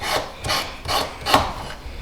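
Sanding a metal thumbpick blade to remove the burr from its back side, a close, steady rasping rub in four or five rhythmic strokes, alone without talk.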